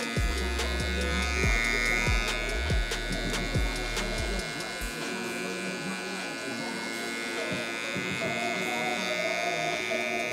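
Electric hair clippers with the lever fully closed buzz steadily while cutting a high taper, the motor hum continuous and close, stuttering in short pulses early on before settling into an even drone.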